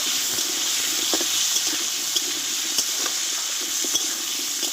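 Potatoes sautéing in oil with turmeric and salt, a continuous close sizzle with frequent light scrapes and taps of a spoon against the pan, fairly loud and steady throughout.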